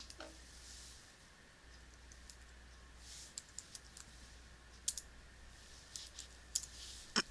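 Keys on a computer keyboard clack as a login ID and password are typed, the quiet taps sparse at first and then coming in short irregular bursts over a faint steady hum.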